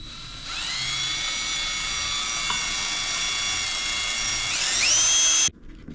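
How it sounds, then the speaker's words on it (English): A power drill boring into a small fly rod whines at a steady high pitch for about five seconds, its tone rising briefly near the end before cutting off abruptly. "I'm not drilling too deep through the whole thing here"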